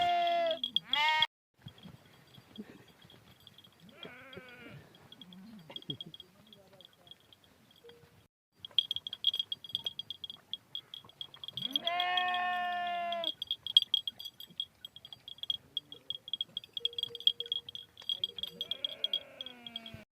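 A flock of sheep bleats in the Cholistan desert, several wavering calls rising and falling at intervals over a constant high buzz, with people talking in between.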